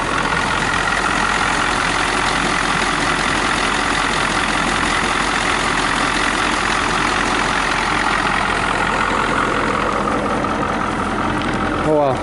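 An Oldsmobile engine runs at low idle, a steady, close, continuous rumble with a constant low drone and no change in pace throughout.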